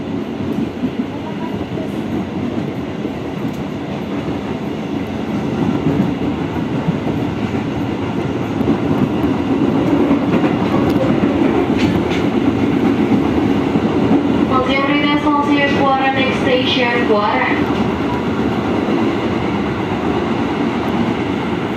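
Trains run along an Indonesian double-double track near Bojonggede station, a steady rumbling of rolling railcars with a brief burst of wheel squeal midway through.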